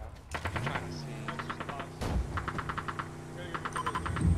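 Rapid bursts of gunfire in the online shooter Ring of Elysium, several short volleys of quick repeated shots at moderate distance, set among in-game noise and a person's voice talking between bursts.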